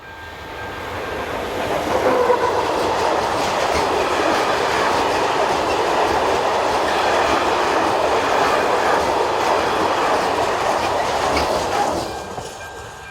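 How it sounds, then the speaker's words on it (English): A 1977-built freight locomotive hauls a loaded coal train past on a European railway, with heavy engine rumble and steady clickety-clack of wagon wheels building, holding loud and close, then fading as it passes. "on a loaded coal train, we see number 130017, a machine which was constructed in 1977"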